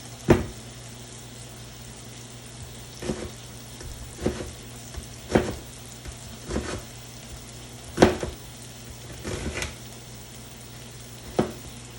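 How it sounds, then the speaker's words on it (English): A knife chops onions into strings on a board, about eight sharp, separate thunks spread unevenly over a quiet sizzling background. "Chop some onions real quick."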